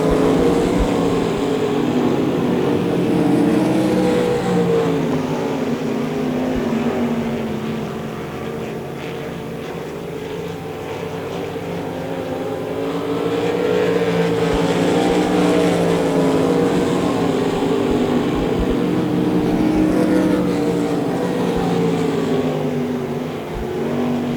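Race cars, including a V8, roar around the Devil's Bowl Speedway oval in a heat race, a loud continuous engine drone that swells and fades as the pack passes, with no voices.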